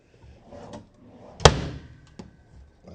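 A single sharp wooden thud of a hotel room drawer without soft close shutting hard, loud and close, with a faint softer knock a moment later in a quiet room.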